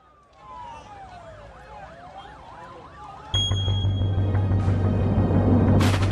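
An ambulance siren wails on a highway, its rising and falling tone carrying over steady traffic, then growing louder and harsher as a heavy engine drone joins close by.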